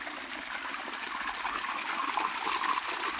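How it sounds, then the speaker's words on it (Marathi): Irrigation water runs steadily into a sugarcane field on a farm, a continuous close gushing and trickling flow without a break. "इथं बघा पाणी सोडलेलं आहे ऊसाला"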